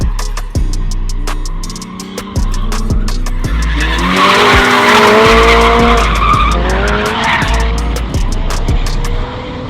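A Subaru BRZ spins out at a car meet, its tires screeching in a long rising and falling skid over a loud revving engine, with sharp clicks and thumps along the way.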